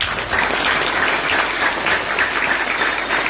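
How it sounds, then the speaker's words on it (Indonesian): A crowd at an Islamic religious lecture applauds the santri students with dense, steady clapping that stays loud and even for the whole stretch, with no talk over it. "Tepuk tangan untuk para santri"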